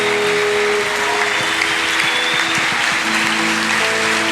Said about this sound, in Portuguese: da sua melhor salva de palmas